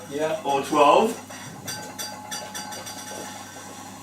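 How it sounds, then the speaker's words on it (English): Vases stacked on a windowsill clatter over in a kitchen, a short jumble of ringing, knocking hits near the start, then a voice talks briefly over a low hum. "that was the sound of some vases stacked on a windowsill"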